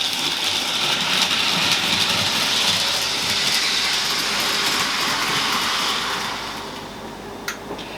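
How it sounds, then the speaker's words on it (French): An intercity model train on a digital layout runs between stations, making a continuous rolling rumble with light rail clatter that fades slightly toward the end, followed by a couple of faint clicks. "Il part de la gare 1, emprunte le canton de passage pour aller en gare 2."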